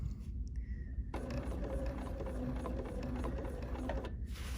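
A sewing machine runs in a steady mechanical burst of rapid stitching for about three seconds, close and fairly quiet, bracketed by short pauses.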